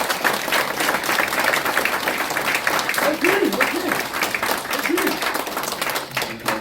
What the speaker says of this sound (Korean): 서서 우리 주당 대표님 뜨거운 박수로 환영해 주시면 감사하겠습니다